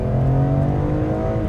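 BMW M car engine running loudly and steadily close by, a deep sustained drone with a strong low rumble and no speech over it.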